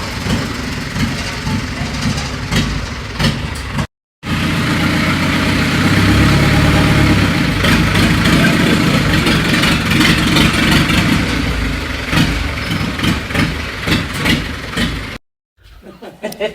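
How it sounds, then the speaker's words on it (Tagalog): An old but still heavily used vehicle engine idling on a rural village road in northern China, a loud steady low rumble with occasional revs and two brief dropouts, voices talking over it. "Lumang sasakyan na."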